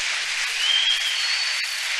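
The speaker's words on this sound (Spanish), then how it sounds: "Un aplauso general." Applause from a church congregation, a dense, steady wash of clapping that holds evenly through the whole stretch at moderate loudness, with no voices over it.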